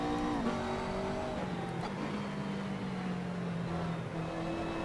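A race car in the Assetto Corsa racing game rolls along slowly, its engine drone steady and mid-level with gentle pitch shifts as the revs rise and settle, continuous throughout without voices.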